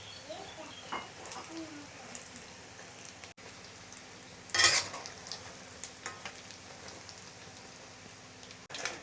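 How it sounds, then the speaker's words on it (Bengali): Lentil dhoka cakes fry in hot oil, a soft, steady sizzle running throughout with faint crackles and one brief louder hiss midway, quiet and close. "এভাবে আপনারা ধোকাগুলো এপিট ওপিট করে লাল করে ভেজে নেবেন।"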